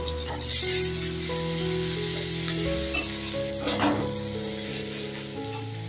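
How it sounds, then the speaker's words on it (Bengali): Onions frying in oil in a pan for a Bengali fish kosha, a steady sizzling hiss with occasional stirring scrapes, close up and continuous, with no talk over it. "পেঁয়াজটা সামান্য লাল লাল করে ভাজা হলেই টমেটোটা দেব"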